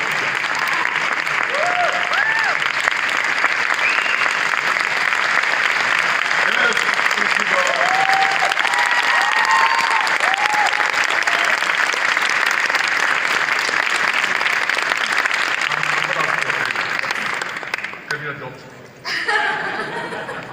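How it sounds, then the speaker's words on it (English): Long, sustained applause from an audience at a UNESCO NGO Forum talk, with scattered chuckles and voices over the clapping, which thins out and fades toward the end. "I think she deserves a huge round of applause."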